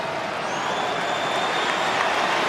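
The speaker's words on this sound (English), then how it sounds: "A big roar for Bruno Fornaroli as he replaces Nikolaos Vergos" A stadium crowd at an A-League football match between Melbourne Victory and Melbourne City roars steadily for a substitution, a dense, sustained wash of massed voices with no individual speech standing out.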